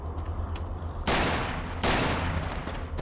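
Gun in the horror game Afraid of Monsters fires two loud, sharp bursts in quick succession over a low background hum.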